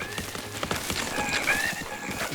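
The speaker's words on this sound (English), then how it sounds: "Oh, the horse ran him over." In the video game Zelda: Breath of the Wild, a horse whinnies loudly over a rapid clatter of hooves, the sounds dense and near with no talk during them.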